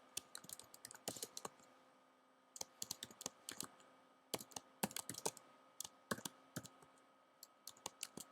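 Typing on a computer keyboard, close and fairly quiet, with bursts of quick key clicks separated by short pauses, and no talking.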